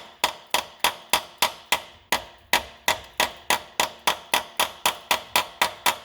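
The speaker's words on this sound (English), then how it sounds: "just get a hammer here. You're going to tap the edge just to here" Repeated sharp metallic taps from a hammer on the edge of a 2013 Dodge Grand Caravan's lower oil pan, about three per second in a steady rhythm, close and crisp with brief ringing decay.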